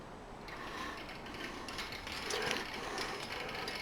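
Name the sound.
wind-up kinetic sculpture gears rotating, lifting and dropping shaft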